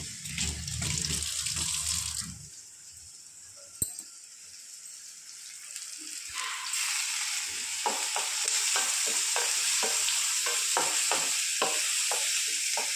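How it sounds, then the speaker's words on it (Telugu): Vegetables being rinsed under a running kitchen tap, with a steady broadband rush of water that briefly quietens, then returns with quick splashes and knocks as pieces are handled in the stream. "అందుకని వాడే ముందే కడుక్కుంటున్నాం"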